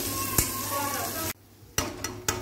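Chopped onions frying in hot oil for ajwain aloo gobi, a close sizzle with sharp clinks of a spoon against the pan, briefly dropping away before stirring knocks return.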